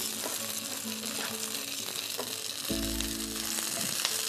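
Onions sizzle steadily in a frying pan as caraway is added, with a low hum and a clatter from stirring partway through. No voices.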